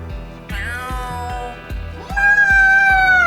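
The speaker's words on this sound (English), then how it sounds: "Look at the cute kitty!" A cat meows twice in the video game Trails through Daybreak 2, with one short meow and then a longer, louder, rising one, both over a steady rhythmic musical pulse.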